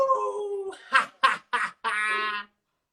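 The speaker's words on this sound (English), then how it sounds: "Oh, that's my dog." A dog howls with a long drawn-out tone, then gives a quick series of short yips and barks before ending in another sustained howl, loud and close in a quiet space.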